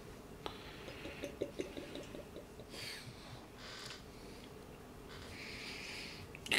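Cherry Chouffe, a Belgian cherry beer from Brasserie d'Achouffe, poured from a bottle into a freshly rinsed branded glass, with a cap click followed by soft gurgling, splashing and fizzing foam, close and quiet.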